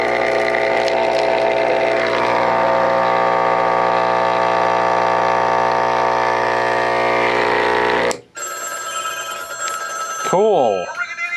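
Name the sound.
Seasonal Visions 400W fog machine pump running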